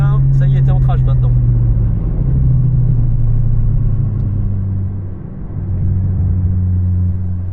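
Alpine A110S on a race track accelerating, a loud, steady engine drone close by throughout, dipping briefly then rising again, with a coach talking over it.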